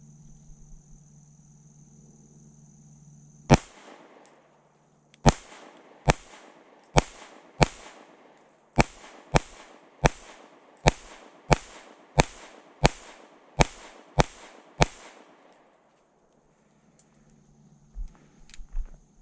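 A Fusion Firearms XF Pro pistol fires about fourteen sharp, loud gunshots at a range, one shot then a steady string at roughly half-second spacing, each crack trailing a brief echo, with quiet before and after.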